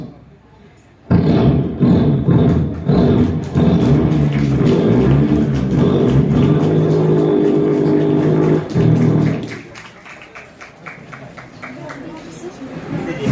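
A voice imitates a motorcycle engine with a loud, sustained revving roar that holds steady for several seconds, then drops away to quiet.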